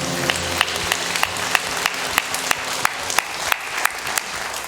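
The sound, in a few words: congregation applause in church service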